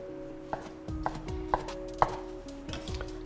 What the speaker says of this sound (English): So we're going to take some pieces of heirloom tomato and chop them quite roughly.